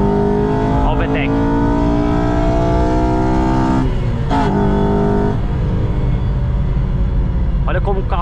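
A Honda Civic Si on a track revs hard into VTEC, a loud sustained engine howl with rising harmonic pitch filling the whole stretch, while someone speaks briefly over it.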